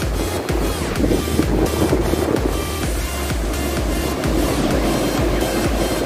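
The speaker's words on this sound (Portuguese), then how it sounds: "Olha o barulho das ondas aí" Steady roaring surf with wind buffeting the microphone, waves washing in continuously at a beach in late afternoon.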